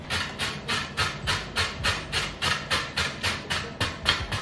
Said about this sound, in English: a cheese grater, and grate the carrots this way